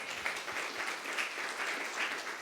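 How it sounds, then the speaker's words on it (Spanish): Congregation in a church applauding, a steady dense wash of many hands clapping at moderate level, held evenly throughout with no voices over it. "Denle un aplauso a Jesús."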